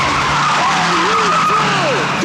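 A car brakes hard and its tires skid, a loud rising and falling squeal sweeping through the burst, with engine noise underneath.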